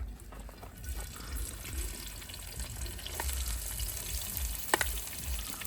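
Capsicum sautés in a pan with a soft, continuous sizzle, broken by light scraping and stirring noises from close by, with no talk.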